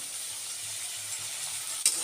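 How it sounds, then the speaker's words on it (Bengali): A steady high sizzle of onions frying in a pan with salt, with a faint scrape of stirring near the end. "পেঁয়াজ ভাজার মধ্যে দিয়ে দিলাম আমি পরিমাণ মতো নুন এখন দিয়ে এটাকে ভালো করে ভাজা হতে থাক"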